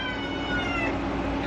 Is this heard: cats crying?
yes